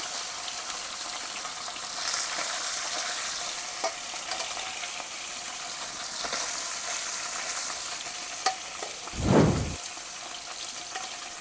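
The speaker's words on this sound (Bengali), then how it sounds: "এখন বেলে মাছ ভাজা হইতেছে একদিকে" Bele fish fries in a pan with a steady, crackling sizzle that holds the whole time. A brief louder burst near the end sounds like stirring or a splash, and no one talks.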